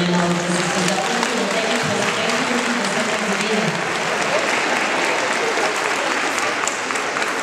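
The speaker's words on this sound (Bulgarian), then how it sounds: "аплодисменти за мен." An audience applauds steadily at a children's rhythmic gymnastics tournament in Burgas for the Nikulden holiday, a dense, continuous wash of clapping that stays loud, with a few voices mixed in.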